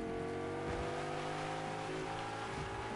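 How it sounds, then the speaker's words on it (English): A steady video game car engine drones throughout, shifting pitch as it revs up and eases off, loud and continuous with no talk. "It's a noisy car, this, though, isn't it?"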